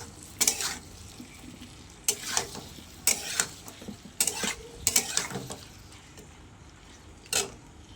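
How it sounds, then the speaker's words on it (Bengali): Fried chicken pieces for chilli chicken are stirred and tossed in a pan of masala, with repeated scraping strokes of a spatula against the metal over a soft, continuous sizzle. "চিকেন ফ্রাইগুলোকে ওর মধ্যে দিয়ে কষিয়ে নেবো ভালো করে।"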